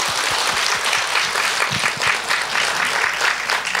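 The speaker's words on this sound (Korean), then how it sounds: "박수 한번 주세요. 여러분." A full audience claps at a lecture held at Jogyesa temple in Seoul: dense, steady applause from many hands that runs at an even level throughout, with a few sharper individual claps standing out.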